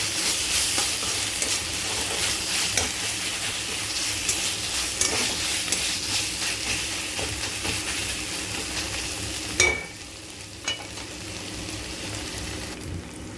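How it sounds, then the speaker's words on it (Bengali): Ginger, garlic and green chilli paste frying with browned onions in a pan, a loud close sizzle that softens toward the end, with a couple of brief clinks and no talk. "এর ভেতরে এবার আদা, রসুন আর কাঁচা লঙ্কা বেটে রেখেছিলাম, সেটা দিয়ে দিলাম।"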